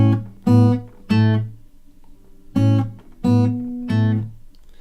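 An acoustic guitar plays bar 4 of a song, with six plucked chords in two groups of three separated by a brief pause. Each note rings clearly and then fades, and no one speaks.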